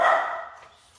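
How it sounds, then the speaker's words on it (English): A single dog bark sounds close and loud at the start, then fades quickly into a quiet room. "Sorry, dog is barking."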